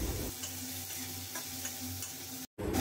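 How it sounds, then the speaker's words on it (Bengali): Tomato and onion masala frying on a low flame in a pan, a steady close sizzle with spatula stirring scrapes, cut off by a brief gap near the end. "মশলাটাকে লো ফ্লেমে এবার ভাজি ভালো করে"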